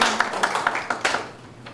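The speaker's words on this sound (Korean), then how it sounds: "박수 환영하고 인사드리겠습니다" Audience applause at an East Asia Special Olympics taekwondo assembly, welcoming a late-arriving delegate: a short burst of scattered hand claps, moderately close, fading within two seconds.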